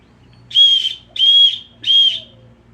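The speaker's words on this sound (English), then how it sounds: "It does have a whistle." Three short, even blasts from a small plastic survival whistle from a Trailblazer firestarter set, with brief gaps between them, shrill but moderate in volume, blown gently.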